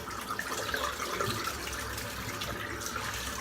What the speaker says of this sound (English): I'll just rinse my brush off.